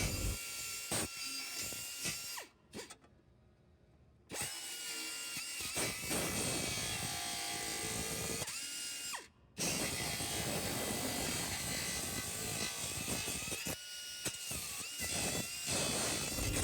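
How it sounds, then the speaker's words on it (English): A belt grinder works a welded car body panel along a pinched weld seam, a steady high whining buzz that drops away briefly twice as the tool lifts off, then resumes with gritty, scraping grinding. "he can take the belt grinder and move backwards into the pinched weld area"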